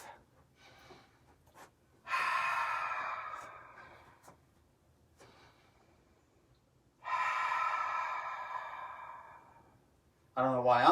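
Two long, deep exhalations through the mouth during a vinyasa yoga session, each lasting a couple of seconds, close and fairly loud against a quiet room, with softer breathing between and a brief voice at the end.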